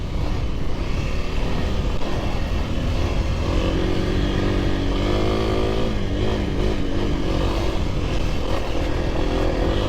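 Kawasaki KLX300R dirt bike engine running steadily on a test ride, a loud continuous close-up drone with slight rises in revs and no gaps.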